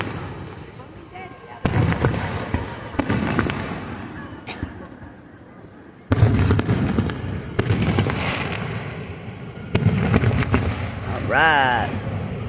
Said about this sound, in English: I like these fireworks. They're far away.